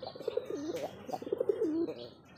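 A Rajgolla pigeon coos at close range, two warbling rolling phrases in quick succession, clear and alone.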